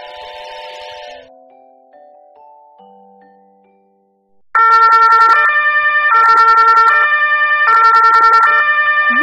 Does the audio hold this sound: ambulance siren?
yes